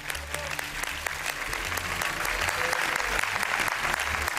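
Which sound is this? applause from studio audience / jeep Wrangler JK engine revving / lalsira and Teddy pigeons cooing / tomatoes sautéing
applause from studio audience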